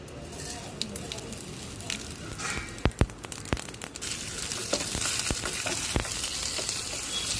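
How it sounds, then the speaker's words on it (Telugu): Sesame, dried red chilies and coconut pieces frying in a pan for a coconut chutney tempering, a soft crackling sizzle with sharp pops and clicks of stirring against the pan, close and quiet. "ఎండుమిర్చి బాగా దోరగా వేయించి అందులో కొబ్బరి ముక్కలు కూడా వేసి బాగా కలపాలి."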